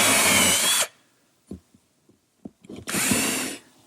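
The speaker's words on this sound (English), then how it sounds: "it's easier to drill the holes down the center of the dado" A power drill bores screw holes down a dado in a wooden floor panel for a kitchen island, two close, loud bursts of whining drilling separated by a short pause filled with small knocks and handling clatter.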